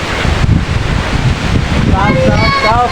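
Strong wind roars steadily across the microphone with heavy low rumbling gusts, and a voice talks briefly near the end.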